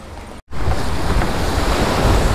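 A windy sea on the Egyptian coast, with loud waves and surf roaring continuously alongside wind buffeting the microphone after a brief dropout near the start, and no voices.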